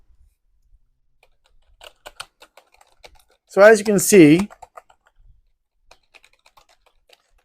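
Clicky typing on a K700 wired backlit keyboard, larger keys louder than the rest, in short bursts and scattered taps, mostly quiet, with someone briefly speaking in the middle.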